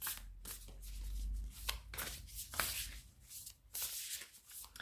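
A deck of oracle cards being shuffled by hand, giving repeated riffling, flapping bursts close to the microphone at an uneven rhythm, with no talk.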